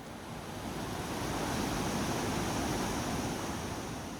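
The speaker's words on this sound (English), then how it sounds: "your most common companion will be the sound of the rushing river." A rushing river runs alongside an abandoned train line trail near Osaka, Japan: a steady, broad roar of flowing water that swells slightly and holds constant with no voices.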